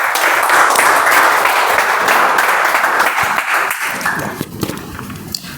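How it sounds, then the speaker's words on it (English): An audience stands and applauds after an icebreaker speech at a Toastmasters meeting, with loud, dense clapping that fades over the last couple of seconds into scattered claps and room noise. "I request everyone to stand up and give it applause once the speech is completed"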